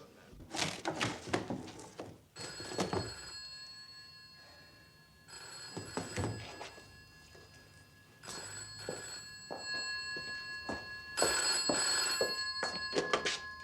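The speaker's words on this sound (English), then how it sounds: "Wasn't expecting the phone to ring." A telephone bell rings in three loud bursts indoors, separated by pauses, with some rustling and thumps around the rings.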